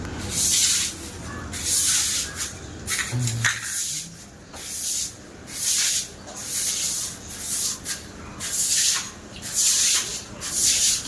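A floor is washed with water after cooking, rhythmic scrubbing and rubbing strokes repeating close by with a wet, hissy texture, in steady pulses of about a second each.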